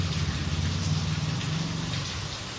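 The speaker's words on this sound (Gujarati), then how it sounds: "ગાય સવા કલાકથી વરસાદ આવે" Heavy rain pouring in a village, a dense steady wash of falling water with a low droning hum underneath, close and continuous for the whole stretch, no talk.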